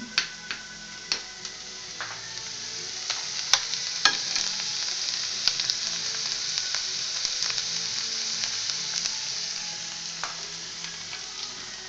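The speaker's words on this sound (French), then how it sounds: "Alors, faire pistouiller nos petits oignons." Onions sizzle in a frying pan with a steady crackling hiss, scattered sharp pops and spits coming through close and clear, and no talking.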